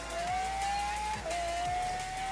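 A car's tires screech in Forza Horizon 3 (Hot Wheels expansion): a sustained, steady squeal that breaks briefly midway and then resumes over a low engine rumble, with no talking.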